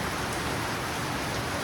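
Heavy rain pours steadily and loudly on a surface, a dense, unbroken wash of noise with no pauses and no voices.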